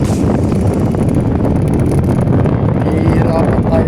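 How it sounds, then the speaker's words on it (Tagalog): Strong headwind roars across the microphone during a gloomy bike ride toward Pamplona, a steady, loud, unbroken buffeting that fills the whole stretch. "salungat tayo sa hangin"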